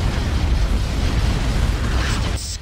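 A sustained, rumbling blast in a Star Wars: Empire at War space battle over Felucia: a loud, dense roar of explosions filling the whole span, with a crackling tail that drops off near the end.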